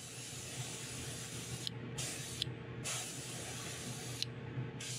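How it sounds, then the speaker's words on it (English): A steady airbrush hiss sprays paint onto a fishing lure in bursts, cutting off briefly and resuming several times, close and even with no talking. "I'm spraying it."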